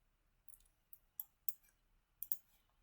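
Several crisp computer mouse clicks, about six, come in quick uneven pairs and singles, faint and alone with no talking, as a user works through dialog options in QGIS mapping software.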